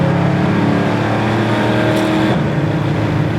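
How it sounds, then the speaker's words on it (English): A 1972 Chevy Nova with a MagnaFlow exhaust accelerating, a steady loud engine roar heard from inside the car, with a slight pitch shift as it pulls. "You're gonna like that MagnaFlow exhaust sound."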